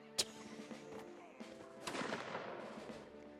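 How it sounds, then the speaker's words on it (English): Scattered cannon booms and crackling musket fire sound from a Napoleonic war video game battle at a bridge, a sharp near shot followed by a distant rolling volley, fairly faint overall. "when crossing a bridge against cannons and musket fires, generally try and avoid"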